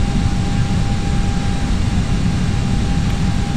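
British Airways airliner descending in Microsoft Flight Simulator X with flaps fully extended, slowing to 150 knots; a steady, loud jet engine drone with a faint constant whine runs unbroken throughout.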